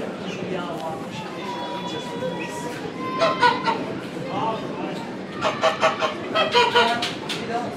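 Poultry pens at a country fair in the Monts du Lyonnais, with geese and Muscovy ducks honking and squawking in rhythmic bursts while people talk close by throughout.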